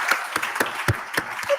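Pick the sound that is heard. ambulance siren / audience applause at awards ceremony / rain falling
audience applause at awards ceremony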